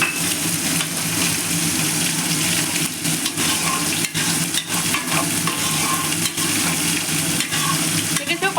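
Green peas dropped into spice masala frying in a pan, giving a loud, dense, continuous sizzle close by with occasional stirring scrapes and no talk.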